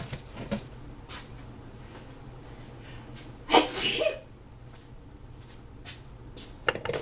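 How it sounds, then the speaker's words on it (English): A single sharp sneeze bursts out near the microphone, brief and loud against a quiet room, with a small breath afterward. "oh, I feel a sneeze coming on."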